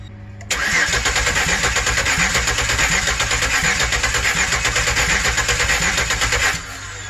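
A 2008 Express engine with an oil pressure sender hooked up cranks and catches, then runs steadily at a loud, close idle for about six seconds before cutting off.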